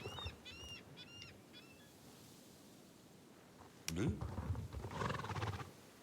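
Horse neighing in the online game Star Stable Online: a few high, wavering whinny calls early on, then a louder burst of hoof clops and rustling movement near the end.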